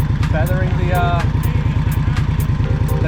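An Indian Scout Bobber motorcycle engine rumbles steadily at very low speed during a slow turn, a constant close throb under a rider's talk.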